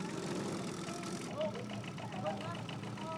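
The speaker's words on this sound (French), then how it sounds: "il se déplace en pirogue longue à fond plat, muni d'un moteur à deux temps" Two-stroke outboard engine on a flat-bottomed longtail pirogue at sea in the Andaman Sea, a faint steady mid-pitched drone with a rapid rhythmic chugging pulse under a voice.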